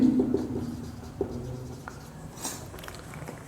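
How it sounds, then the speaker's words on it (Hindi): Pen scratching across paper as the word building is written, short faint strokes and taps in a quiet room. "लिखेंगे बिल्डिंग"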